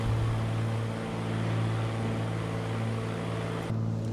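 Twin piston prop engines of a FlySimware Cessna 414 in the MSFS 2024 flight simulator, heard as a steady, loud cockpit drone with a constant harmonic hum that holds throughout with only a slight dip near the end.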